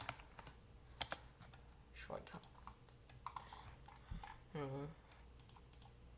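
Keys clack on a Redragon S107 computer keyboard in scattered, irregular presses, faint and close, with soft voice sounds in the quiet background.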